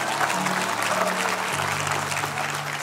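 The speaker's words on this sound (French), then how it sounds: "Ouais, on peut applaudir." An audience at a Christmas show bursts into dense, continuous applause that stays steady and full throughout, with a low hum underneath.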